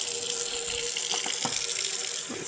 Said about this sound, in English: Now we're going to get 1 1/4 cups of cool water